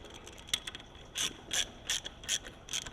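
A ratchet tightens bolts evenly on a Cummins engine fitted with a Mishimoto part, seating a seal. Several bursts of crisp clicking repeat at a steady pace, close and clear, with no talk.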